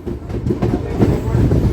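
A MEMU commuter train rolls into Bihta railway station after the run from Patna, a steady loud rumble of wheels and carriage noise with faint rhythmic clatter throughout and muffled voices beneath.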